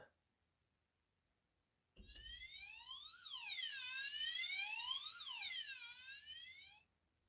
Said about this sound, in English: Just then, there's a loud police siren.